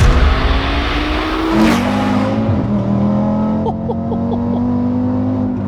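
A fully built 770 bhp Audi RS3 engine fires up and revs hard, its loud exhaust note climbing and dropping through several sharp throttle blips before settling into a deep, steady idle close by.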